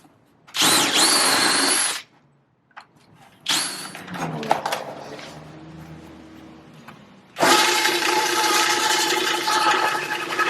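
A drill press whirs in loud bursts, stopping and restarting as it cuts into plastic, with clattering and rattling between runs.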